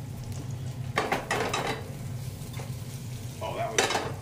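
Eggs frying quietly in a pan with a soft, steady sizzle, broken by a few louder scrapes and clatters of a utensil and kitchenware nearby.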